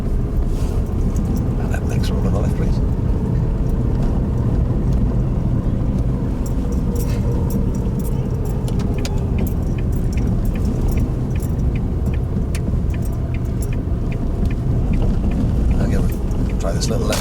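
A car drives along during a learner's first driving lesson, its engine and road noise a steady loud rumble throughout, with small rattles and clicks from the cabin.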